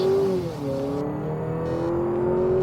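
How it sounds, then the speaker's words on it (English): A 2025 Honda Accord Sport L Hybrid accelerates on a multi-lane highway, its engine note rising and shifting in pitch over steady road and wind noise, heard from inside the car without speech. "open her up a little bit more on the gas. Good response."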